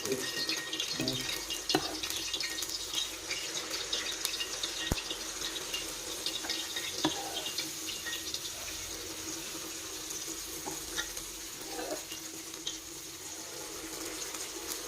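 Unniyappam batter poured into hot oil in the hollows of an appam pan brings a steady, close, hissing sizzle with a faint liquid trickle running throughout, and no one speaks.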